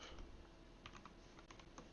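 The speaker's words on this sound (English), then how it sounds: "I just be typing." Soft, irregular clicking of typing on a computer keyboard during a late-night stream, faint and close, with scattered keystrokes and no talking.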